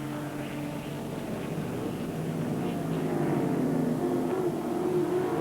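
Saloon racing cars in the 1983 British Saloon Car Championship at Donington braking hard into the chicane, a steady loud engine drone that swells slightly toward the end with no voices.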